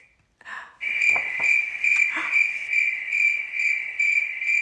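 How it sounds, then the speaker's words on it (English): A cricket chirps by rubbing its wings together, giving a loud, steady shrill trill that pulses in a rapid rhythm, close up, after a brief quiet start with a few soft knocks. "He chirped the most beautiful sound she had ever heard."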